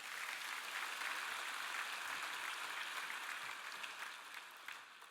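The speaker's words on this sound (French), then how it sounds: "Applaudissez-les bien fort." Church congregation applauding at a sermon, a sustained dense crowd clapping heard from a distance, steady and fairly faint, tapering slightly toward the end.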